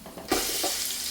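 Onion sautéing in hot oil, a steady close sizzle that jumps louder partway through as food hits the pan, with faint stirring beneath.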